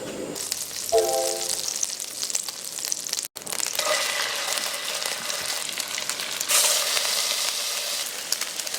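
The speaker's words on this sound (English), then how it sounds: "we're gonna take them out and pan fry it to make it crispy on the outside" Potato and cheese pierogi dumplings pan-frying to a crisp, giving a steady, close sizzle and crackle of hot oil that runs throughout, with a brief dropout partway and a few louder spits near the end.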